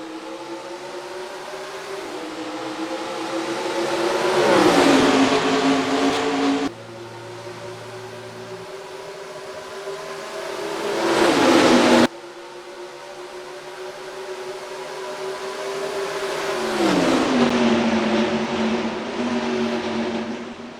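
ARCA race cars in the NASCAR Racing 2003 game roar past at Rockingham, engine pitch swelling and dropping as cars approach and pass, with a couple of abrupt cuts between views.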